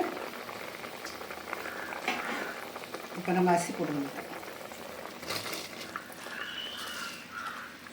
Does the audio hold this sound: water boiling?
yes